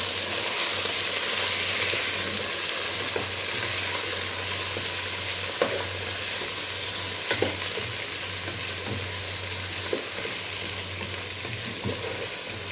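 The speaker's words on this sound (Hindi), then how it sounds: "चिकन को हम फ्राई करेंगे इसका कलर चेंज होने तक।" Chicken frying in a pan for aloo gosht, a steady bright sizzle with occasional spatula scrapes and clicks, close and continuous with no voices.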